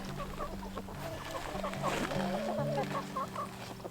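Several chickens cluck and murmur close by in a busy, overlapping chatter, with low steady background noise underneath.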